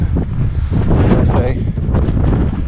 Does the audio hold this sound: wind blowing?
yes